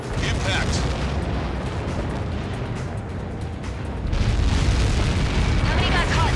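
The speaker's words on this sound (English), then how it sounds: "How many got caught in that explosion?" A massive projectile blast in the Ace Combat 7 combat flight game rolls out as a sustained low roar and rumble, surging louder partway through, with voice chatter heard over it.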